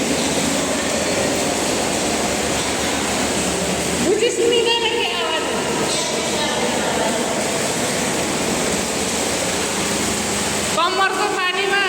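Tamor river water, lifted by pump, gushes into a large tank near a helipad: a loud, steady roar of pouring water fills the whole stretch, with faint voices underneath.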